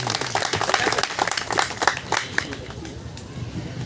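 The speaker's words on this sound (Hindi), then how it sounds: "एक बार दिनकर के लिए हम लोग तालियां बजाते हैं।" An audience at a Delhi poetry and expression event applauds in honour of the poet Dinkar: dense, close clapping that swells and then thins out toward the end.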